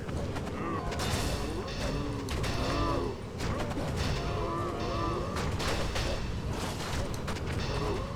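Cows moo repeatedly in a Diablo-style arctic druid game fight, several low drawn-out calls layered under constant dense combat crashes, impacts and spell effects at steady loud volume.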